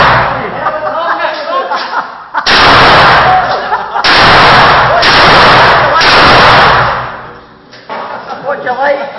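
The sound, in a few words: gunshots at a shooting range in Riga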